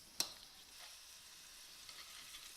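Ground turkey breakfast patties frying in a cast iron pan, a soft, steady background sizzle after one sharp click at the start, faint and close.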